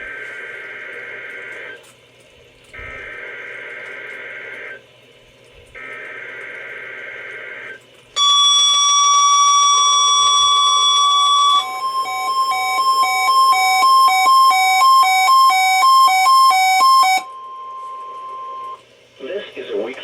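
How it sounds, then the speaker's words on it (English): Sangean CL-100 NOAA weather radio running its weekly test: three buzzy data bursts, then a loud, piercing steady alert tone with warbling overtones lasting about ten seconds, close and clear. "This is a weekly test of the NOAA radio warning device."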